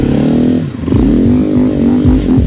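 An enduro motorcycle riding through a snowy forest, its engine droning close and loud, dipping and then revving back up as the bike pushes on.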